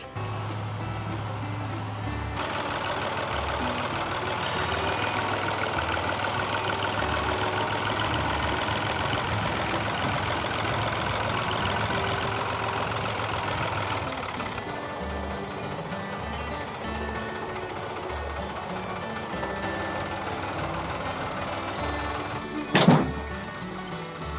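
A tractor engine runs steadily at idle with a low rumbling throb throughout, close by, ending with a single sharp clunk near the end.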